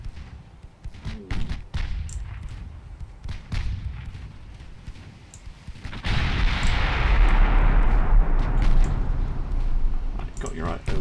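Naval gunfire from warships in the Ultimate Admiral Dreadnoughts game, with repeated booming shots and heavy thuds followed by a long, loud rumbling roar, while someone talks over it.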